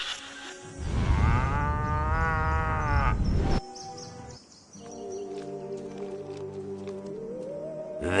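A cow moos in the Destroy All Humans video game, one long, loud, drawn-out low moo lasting a few seconds, followed by quieter sustained tones and game ambience.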